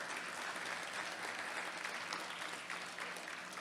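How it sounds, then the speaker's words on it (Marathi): An audience at a Guru Purnima satsang gathering claps together in dense, sustained applause, even and continuous throughout, heard from some distance. "टाळ्या वाजवा."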